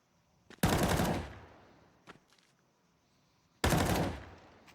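Gunfire in a Counter-Strike match during a PGL Bucharest 2025 esports game, two sharp loud bursts of automatic fire a few seconds apart, with a few faint clicks between them and no voices.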